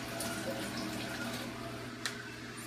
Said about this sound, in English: I'm just grabbing water here.